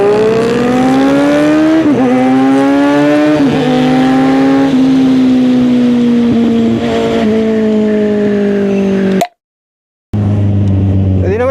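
A motorcycle engine revs hard at a night gathering, a loud, sustained rising and falling wail with a smooth inline-four character, broken by a sudden brief gap before the engine resumes; voices talk over it.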